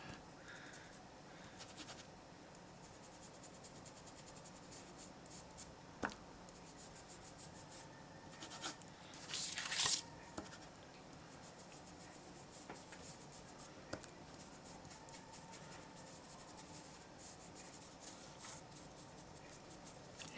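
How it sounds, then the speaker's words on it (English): An ink blending tool rubs over a stencil laid on paper, giving a faint, steady scratchy brushing with one brief louder swipe partway through; no one speaks. "pulling the ink that's on the stencil up onto the paper"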